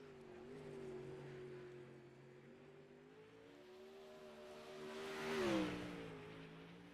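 A 360 sprint car engine droning around Weedsport Speedway in a racing game, steady buzzing tone with a rising whine as the car sweeps past near the end, alone without talk.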